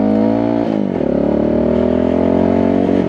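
A WK Scrambler 125 motorcycle engine revs up, dips briefly, then climbs and holds at a loud, steady high pitch, heard close with no talk.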